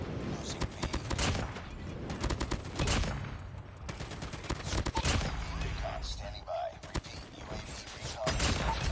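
M4 SMG fire in the COD Mobile shooter game, repeated short rapid bursts of shots spread across the stretch, sharp and close, with a voice talking over parts of it.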